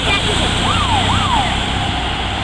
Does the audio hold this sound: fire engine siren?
yes